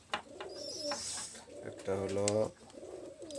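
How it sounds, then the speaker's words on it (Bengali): Pakistani high flyer male pigeons coo softly in short throaty bursts close by, while someone talks over them. "আমি দুইটা কবুতর দেখাচ্ছি সিঙ্গেল সিঙ্গেল।"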